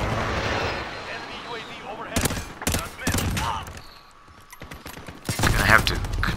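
Bursts of gunfire from the video game The Conduit, several sharp rapid volleys spaced a second or so apart, loud and close, with voices talking at points over the game sounds.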